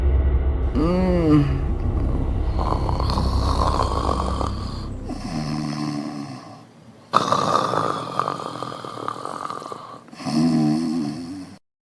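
Person snoring loudly nearby in a film scene, several long rumbling snores with wheezy, snorting breaths separated by short pauses.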